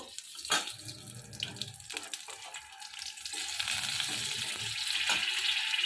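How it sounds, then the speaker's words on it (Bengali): Dried chili and black cumin crackle and sizzle in hot oil in a home kitchen while fish jhal is being made, a steady frying hiss with sharp pops that grows louder toward the end. "লঙ্কাটা ফাটছে প্রচণ্ড দেখুন"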